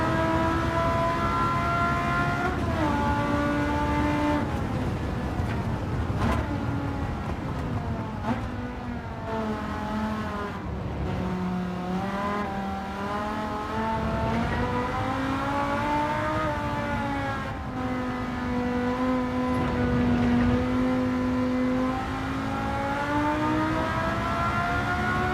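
A race car engine with a loud race exhaust drones and revs continuously in a video game, pitch rising and falling through gear shifts.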